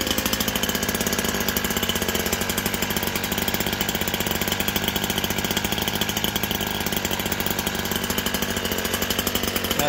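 A STIHL HS82R hedge trimmer engine runs at throttle, a loud, steady, rapid buzzing drone close by that holds even for ten seconds with no talking.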